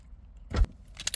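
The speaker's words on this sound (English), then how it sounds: "I put the key into the ignition." Car keys jangle softly and briefly up close inside a car before going into the ignition, one thud-like rattle followed by a lighter metallic chink.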